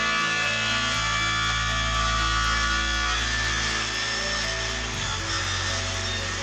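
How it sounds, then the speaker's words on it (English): A circular saw trims the grooves of a homemade wooden puzzle frame, giving a steady, droning whine with a rough cutting texture that holds for several seconds and shifts pitch slightly near the end. "So I attempted some tidy up, first with a circular saw, trying to even out the grooves on that first piece."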